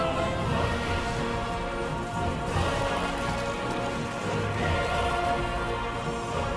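Steady rain pours down in the video game Destiny, a dense, even hiss of drops on surfaces that stays loud and unbroken throughout with no talk over it.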